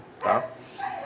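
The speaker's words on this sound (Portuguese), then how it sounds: "vocês estão ouvindo um barulho de cachorro agora" A dog barks twice in the distance, short sharp yaps a moment apart, over faint room noise.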